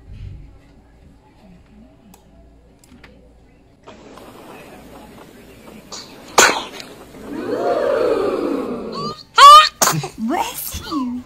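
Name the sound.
baby sneezing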